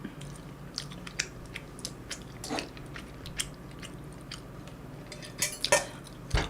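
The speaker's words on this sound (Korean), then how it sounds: "지금 입 다물고 먹고 있잖아요" Someone eats Jjapagetti noodles with rice cake, giving soft close-up chewing and slurping with occasional clinks of cutlery against a dish, irregular and moderately quiet with no talking.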